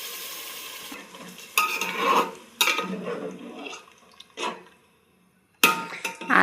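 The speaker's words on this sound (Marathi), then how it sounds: "आता ह्याच्यात चिकन टाकून घेऊया." Chicken pieces are stirred through a spicy masala gravy in a pan, with several distinct scraping, sizzling bursts separated by quieter simmering gaps, close and without any talking.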